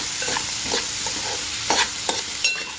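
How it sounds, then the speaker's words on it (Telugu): Mushroom masala with turmeric and salt frying in a pan while being stirred, a steady close sizzle broken by several scraping strokes of the spoon across the pan, with no talk. "ఒక్కసారి అటు ఇటు కలుపుకుంటూ ఉంటే బాగుంటుంది."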